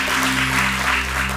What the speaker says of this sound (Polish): To jeszcze raz wielkie brawa dla Izabeli.